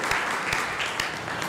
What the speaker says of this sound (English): So if everybody would give yourselves a round of applause.